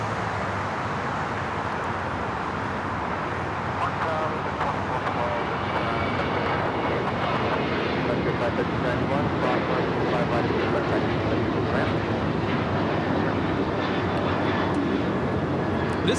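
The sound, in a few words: American Airlines Boeing 737-800 taking off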